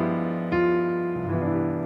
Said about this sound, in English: This is what I call dark chords, and they sound like this.